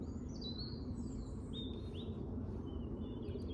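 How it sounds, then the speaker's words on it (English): Birds chirping and singing outdoors on an allotment on a mild day, several thin whistled calls over a steady low background rumble, fairly faint, no talking. "birds are singing"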